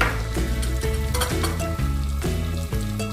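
Chicken pieces for barbecue-sauce fried chicken crackle and sizzle loudly in hot oil, with dense continuous spitting and a few light clinks and stirring sounds close by.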